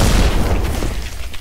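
A cartoon explosion effect from an animated superhero series bursts as one loud, dense boom that fills the whole range, then rumbles and fades slightly over a second and a half with no voices.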